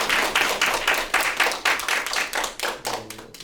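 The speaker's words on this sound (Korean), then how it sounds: "마치고 감사의 박수 한번." A small audience at a seminary lecture claps in thanks, with distinct, fairly loud clapping in uneven bursts that thins out near the end as a voice begins.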